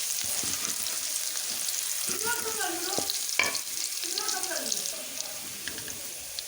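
Garlic-ginger paste frying in a pan with a steady sizzle as it is stirred, a faint voice speaking over the cooking noise partway through.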